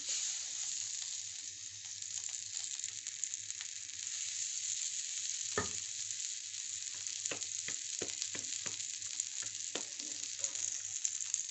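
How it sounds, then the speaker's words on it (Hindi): Butter sizzling on a hot tawa griddle for methi paratha, a steady bright hiss throughout with occasional utensil taps and clicks, close and continuous with no talking. "तवे के ऊपर मक्खन लगाएंगे।"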